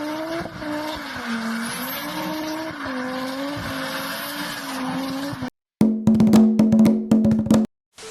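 A drifting car's engine drones with a wavering pitch for several seconds, then sharp bursts of tire squeal and skidding come loud and close, with brief gaps between them.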